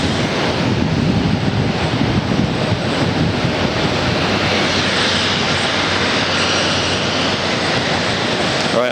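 Jet airliner at Atlanta airport: a loud, continuous broadband engine roar with wind buffeting on the microphone, steady throughout, with no talk over it.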